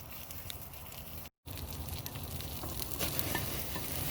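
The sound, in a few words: oysters sizzling on the grill with butter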